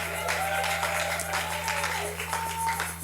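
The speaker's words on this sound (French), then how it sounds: "Est-ce que vous pouvez vous encourager par des acclamations?" Applause and cheering rise from a church audience, a dense continuous clapping over a steady low electrical hum, with scattered vocal calls and shouts mixed in.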